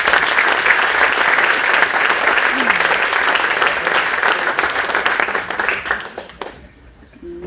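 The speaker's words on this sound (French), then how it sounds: "Merci de l'applaudir." Audience applause for a speaker at a French talk on digital technology and energy sobriety, a dense burst of many hands clapping that gradually thins and fades out near the end.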